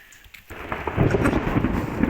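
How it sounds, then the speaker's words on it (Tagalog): Rain abruptly begins about half a second in and quickly builds into a steady, heavy downpour with a low rumbling roar, following a brief quiet start. "Naulan na."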